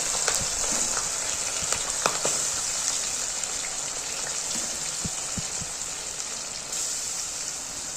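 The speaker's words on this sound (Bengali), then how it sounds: "তো এর মধ্যে আমি এবার এই ইলিশ মাছগুলো ছেড়ে দেবো।" Raw hilsa fish pieces dropped into a wok of oil and a little water, giving a steady close sizzle and crackle with scattered pops and splashes throughout, no voices.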